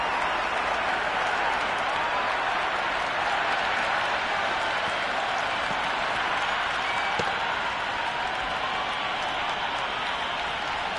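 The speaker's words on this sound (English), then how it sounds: "the crowd have joined the party. It's pretty noisy at the ground" A noisy cricket crowd at the ground keeps up a constant roar of cheering and clapping, loud and steady throughout with no distinct pauses.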